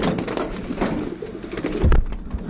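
Pigeons coo softly and repeatedly at close range while pecking at grit, with a brief louder rustle or knock near the end and no voices.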